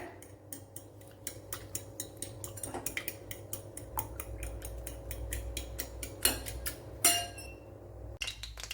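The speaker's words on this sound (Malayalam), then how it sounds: "ഇത്രയും ഇട്ട് കൊടുത്തൊന്ന് നല്ലപോലെ ഒന്ന് ബീറ്റ് ചെയ്തെടുക്കാം" Eggs with turmeric and pepper powder are beaten in a bowl, producing a rapid, steady run of light clinking taps from a fork or spoon against the bowl, close and clear, with a couple of louder knocks near the end.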